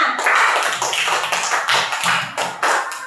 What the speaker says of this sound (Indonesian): tepuk tangan untuk Bima